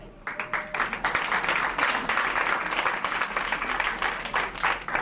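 Audience applause at a wearable art fashion show in an art gallery, a dense sustained burst of clapping from a crowd, loud and close, with a few voices mixed in.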